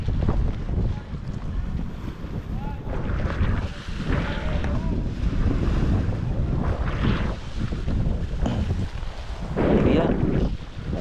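Strong wind at sea ahead of an approaching typhoon, gusts buffeting the microphone in heavy surges over rushing water and waves, loud and continuous with brief voices.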